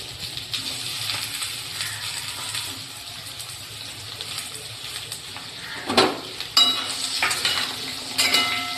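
Potato pieces cooking in a cumin-seed tempering of hot oil in a pan: a steady broadband sizzle, then a clattering burst near the end as more pieces are tipped in and the hiss swells.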